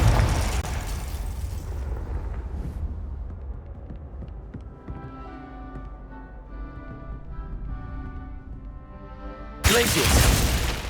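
A Confringo fire spell in Hogwarts Legacy bursts with a loud, broad explosive roar at the start, followed by a humming, tonal magical drone, then another forceful blast near the end.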